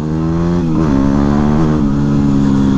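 A Ducati XDiavel motorcycle engine under way, a loud close, steady throbbing drone with strong low harmonics that dips slightly and pulls again as the rider shifts, running throughout without speech.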